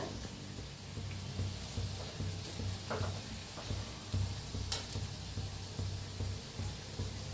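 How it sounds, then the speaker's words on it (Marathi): Vada pav fritters frying in oil until crisp give a soft, steady sizzling hiss with occasional light crackles and small clinks, fairly faint and without speech. "आता छान ह्याला तळून घेऊया क्रिस्पी होईस्तोवर."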